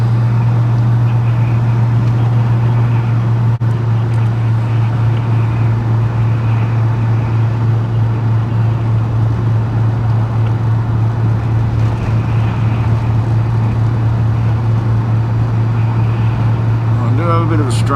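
Holden HK car driving along at steady speed with a tailwind, a constant low droning hum running under broad road and engine noise throughout, with no breaks.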